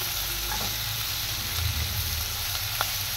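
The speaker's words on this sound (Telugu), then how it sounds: "ఇప్పుడు ఇవన్నీ కొద్దిగా మగ్గే వరకు బాగా ఫ్రై చేసుకోవాలి." Whole spices with a spoonful of fennel seeds frying in oil in a pan for paneer butter masala, a continuous close sizzle with occasional light crackles and a low background hum, no voices.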